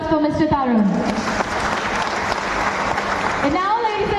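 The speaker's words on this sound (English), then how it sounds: "Can we once again have a round of applause for Mr. Tarun?" Audience applause at a corporate anniversary event, a loud, sustained round of clapping from a full room, bracketed by someone speaking over amplified sound at the start and end.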